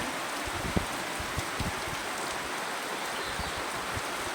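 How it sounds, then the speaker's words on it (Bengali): Steady rain hisses down with occasional louder drops pattering nearby, a constant soft wash of sound with no voices. "যা মনে হচ্ছে আকাশে বৃষ্টি হয়েই যাচ্ছে"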